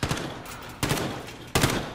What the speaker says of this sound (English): I heard gunshots this way.